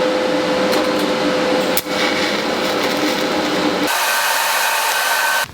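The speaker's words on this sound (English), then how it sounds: "I think I'm going to go ahead and start welding this thing up." Welding up metal parts for a bouncing solo seat suspension mechanism on a Honda Grom motorcycle: a loud, steady crackling hiss and buzz close by, with a brief dip near two seconds and a shift in tone partway before it cuts off.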